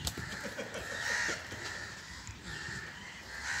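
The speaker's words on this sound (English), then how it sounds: "Nagsisigawan yung mga crow." Several crows caw repeatedly from trees at some distance, harsh calls overlapping outdoors against a faint background hum.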